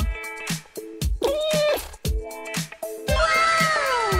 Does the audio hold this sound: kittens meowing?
yes